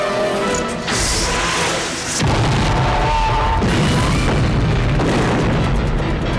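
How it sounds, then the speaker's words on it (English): Explosions from a rocket launcher in a Rambo action scene, a loud sustained boom with crashing debris that swells after an opening rumble and holds heavy and close for several seconds. "he manages to solve this problem with explosions"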